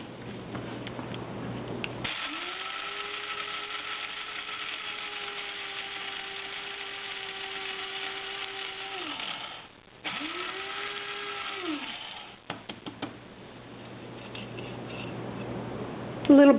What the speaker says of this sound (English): What I'm going to show you is how to make your own onion powder. In my handy grinder.